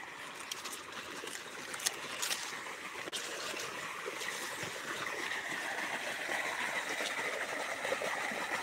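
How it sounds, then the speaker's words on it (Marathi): Irrigation water flowing steadily along a channel into a sugarcane field, a continuous, fairly quiet rushing wash that stays even throughout with no voices. "हे ऊसाला पाणी चाललेलं आहे"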